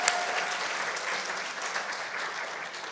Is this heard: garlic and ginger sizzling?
no